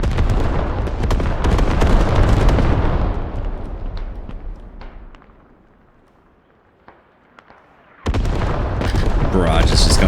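Video-game artillery barrage: dense, loud rumbling blasts that fade to a quiet lull, then a sudden hard return of heavy explosions. Gameplay sounds with possible voices mixed in.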